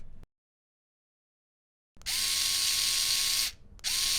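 An electric screwdriver drives screws into the logic board of a PS3 disc drive, whirring in two close bursts after a silent start, the first longer, separated by a brief pause.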